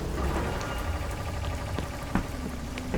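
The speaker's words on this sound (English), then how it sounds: "I am loving the rain effect here." Rain in the horror game Fears to Fathom, a steady dense patter of drops falling on surfaces around an isolated park ranger's station, continuous and fairly close with a few sharper drips standing out.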